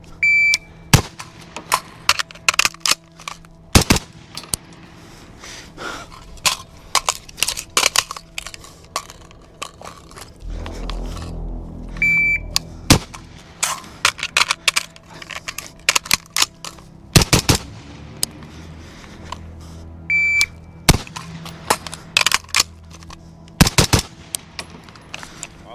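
Close rifle gunfire from a Centurion Arms 11.5-inch FBI AR-15, with sharp single shots spread across the stretch, some in quick pairs, and a pause mid-way filled with reload handling noises.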